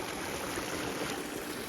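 Water from a borewell pump gushes steadily into a wheat field on a cold morning, a continuous broadband rush close by with no pauses and no voices.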